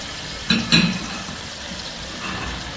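Tomatoes and green chilies dropped into a hot pan for tongue biryani, two quick sizzling bursts followed by a steady low frying hiss.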